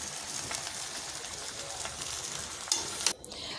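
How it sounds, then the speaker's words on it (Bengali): Cooked rice being slowly mixed in a pot, a soft steady scraping and stirring with a faint sizzle underneath, closing with a couple of sharp clinks of the spoon against the pot. "এখন আমি ভাতটা আস্তে আস্তে করে মিশিয়ে নেব।"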